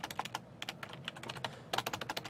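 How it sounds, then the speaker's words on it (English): Rapid typing on a computer keyboard, close and fairly quiet, with irregular bursts of key clicks, a short pause, then another quick run of keystrokes. "Getting the end of the day, typing skills diminishing."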